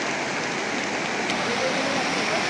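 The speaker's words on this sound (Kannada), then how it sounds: "ಮಳೆ ಬೇರೆ ಸಿಕ್ಕಾಪಟ್ಟೆ ಜೋರಾಗಿ ಬರ್ತಾ ಇದೆ" Heavy rain pours down at the Kottiyoor temple grounds in Kerala during the Vyshaka festival season, a dense, unbroken hiss close by, with a voice speaking over it.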